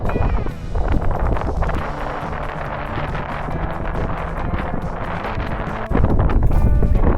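Strong coastal wind at Cape D'Aguilar, Hong Kong, buffets the microphone with a loud, rumbling roar throughout, gusting harder near the end.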